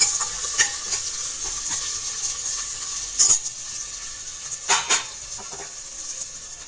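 Browned onions with fresh mint fry in a pot for chicken biryani, a steady, soft sizzling hiss broken by a few sharp stirring clinks and scrapes of a spoon.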